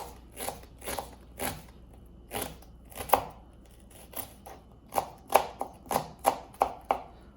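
Knife chopping sweet onions on a cutting board: a steady series of sharp, close taps, spaced at first and then quicker and more regular toward the end, with no voices.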